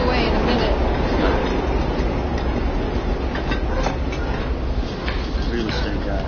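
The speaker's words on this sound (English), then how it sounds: "Subway." A subway train rumbles past an apartment in the 1995 film Se7en, a loud, steady, broadband roar that fills the whole stretch without letting up, with faint voice-like sounds mixed in underneath.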